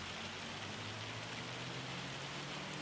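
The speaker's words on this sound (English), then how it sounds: "this hail is absolutely abysmal" Hail falls in the farming game Farming Simulator 25, a steady, hissing patter of pellets that stays even and fairly soft for the whole short stretch.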